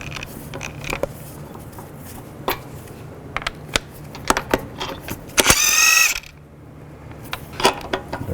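Scattered metallic clicks and clanks as a 22mm socket wrench works on stuck lug nuts of a 2010-2017 Chevrolet Equinox wheel, with one loud, close ratcheting burst.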